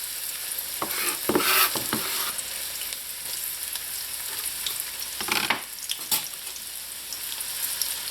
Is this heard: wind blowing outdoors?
no